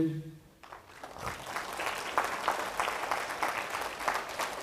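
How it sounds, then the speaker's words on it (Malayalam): A church congregation claps together in a fast, steady rhythm after the preacher's voice stops at the start. The clapping is dense and fairly loud. "ഒന്ന് കൈ ഉയർത്തി കൈയടിച്ച്"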